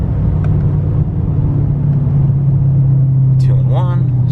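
A 2020 Duramax diesel truck engine holds a steady low drone under throttle, loud and close throughout, with a short rising whine near the end.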